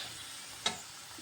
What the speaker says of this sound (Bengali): এই দেখো কড়াইয়ের মধ্যে রুটি ভেজে নিচ্ছি।